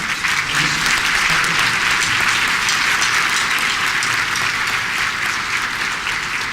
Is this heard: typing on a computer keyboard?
no